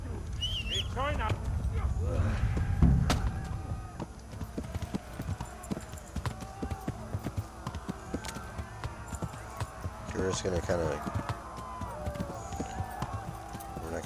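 Horse hooves clip-clopping at a rapid gallop in the medieval game Kingdom Come: Deliverance, a rhythmic drumming of hoofbeats, loud at first and then steadier, with someone talking over it and some game voices and effects.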